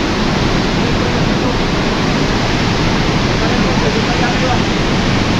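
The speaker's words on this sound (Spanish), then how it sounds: "llegar a lo que es la cascada como tal" The Pailón del Diablo waterfall in Ecuador roars as a loud, dense, unbroken rush of falling water from up close, steady throughout.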